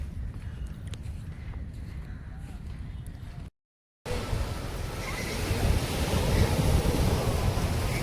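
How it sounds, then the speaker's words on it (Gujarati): Sea waves wash onto the shore at Miramar Beach in Goa, a steady broadband surf roar with wind buffeting the microphone, briefly cut out before returning louder and fuller. "તો મિત્રો આપણે દરિયા કિનારે આવી ગયા છીએ"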